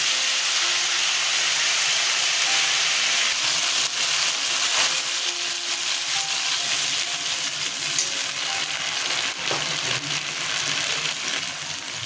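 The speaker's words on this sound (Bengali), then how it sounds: "তেল গরম হয়ে গেছে। আমি শুকনো লঙ্কা, তেজপাতা, দারচিনি, ছোট এলাচ, লবঙ্গ, আদা, কাঁচা লঙ্কা, টমেটো ছেড়ে দিলাম।" Dried red chillies, bay leaf, cinnamon, green cardamom, cloves, ginger, green chillies and tomato hit hot oil for a paneer kofta curry, giving a steady, loud broadband sizzle and hiss with no break for the whole stretch.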